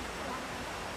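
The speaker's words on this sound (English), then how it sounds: "Waterfall." Steady broadband rush of Sarika Waterfall in Nakhon Nayok, Thailand, a constant, even roar of falling water heard from a moderate distance with no breaks.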